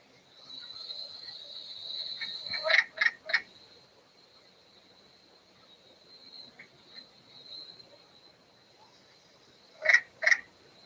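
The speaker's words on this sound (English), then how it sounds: "Let's do the wood frog call now." Wood frog calls from Connecticut, short chattering clucks in two tight groups of three, one near the three-second mark and another near ten seconds, over a faint steady insect drone.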